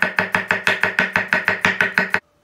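A knife chops eggplant rapidly on a board, about ten even, crisp strokes in steady rhythm, close up, then stops abruptly.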